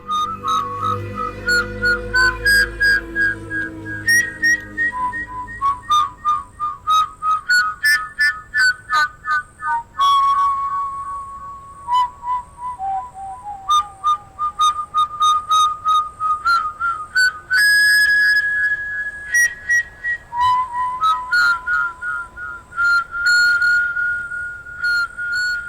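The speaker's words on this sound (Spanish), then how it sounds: "Mas oyó entonces que era respondido con un silbido" A long run of melodic whistled notes sounds clearly on its own, a whistle answering a whistle, rising and falling in short phrases over about twenty-five seconds with no talk.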